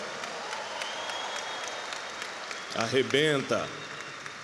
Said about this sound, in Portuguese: Forte aplauso para o pastor Felipe Parente